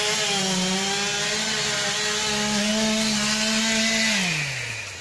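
A chainsaw drones steadily at high revs while cutting fallen trees, nearby and loud, then the engine pitch drops as it eases off at the end.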